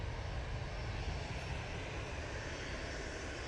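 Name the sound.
EasyJet Airbus A320-200 taxiing at Manchester Airport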